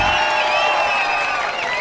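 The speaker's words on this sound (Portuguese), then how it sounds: "Aplausos a Lucely." An audience applauds and cheers for a nurse at a Nursing Day ceremony, a dense, steady wash of clapping with whoops and shouts throughout.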